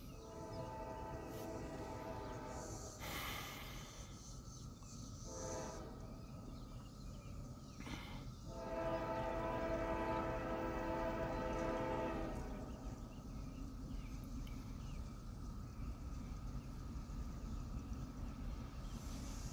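A Norfolk Southern freight train of covered hoppers rolls past with a continuous loud rumble while its horn sounds in long, sustained blasts over the first half, then the steady roar carries on alone.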